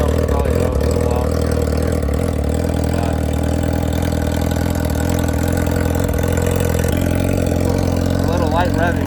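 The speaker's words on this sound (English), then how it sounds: "Here's a quick startup. Bike's warming up" A 2019 Yamaha R6 motorcycle with a full Akrapovic exhaust runs at a steady idle after startup, with a dense, continuous mid-low rumble, close and loud, its tone holding even throughout with slight shifts.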